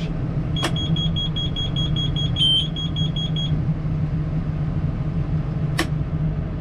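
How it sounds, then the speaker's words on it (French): A combine harvester idles steadily at harvest time with its belts turning, a constant low mechanical drone throughout, a sustained high electronic beep in the first half, and sharp clicks near the start and end. "on va la mettre en route avant. Voilà, histoire de faire tourner les courroies"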